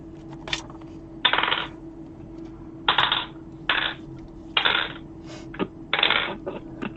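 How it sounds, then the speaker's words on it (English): Dice rattle and tumble across a table for a tabletop vampire role-playing game, in six or seven short bursts of clattering with brief gaps between, fairly close and clear, no voices over them. "I think I'm gonna have to roll it old school with dice"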